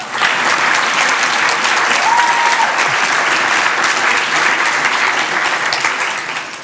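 Audience at a banquet applauding steadily, dense even clapping throughout with a faint voice rising briefly in the middle, fading slightly at the end.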